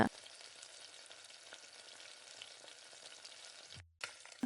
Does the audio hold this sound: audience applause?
no